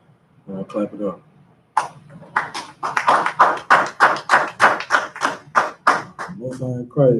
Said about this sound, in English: I'll clap it up.